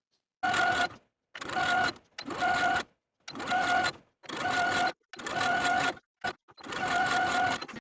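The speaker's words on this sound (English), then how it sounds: "I'm going to edge stitch close to that inner fold all the way around to the bottom of the peplum." A sewing machine edge stitches bias binding close to an inner fold along the edge of a peplum on a sleeveless top, running in seven steady bursts of about a second each, separated by short pauses, close and alone.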